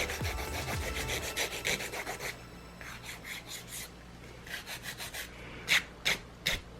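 Hand filing of a sculpted acrylic stiletto nail: short rasping strokes, close and quiet, first in a continuous run, then in quick rhythmic bursts that grow sharper toward the end.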